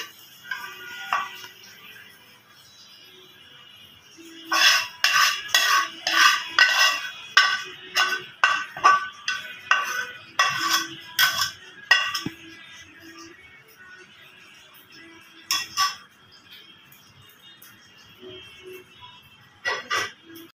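Metal spoon scraping and clinking against a pan and plate while fried bitter gourd is served, a rapid burst of sharp clinks followed by a few scattered taps, close and clear in a quiet kitchen.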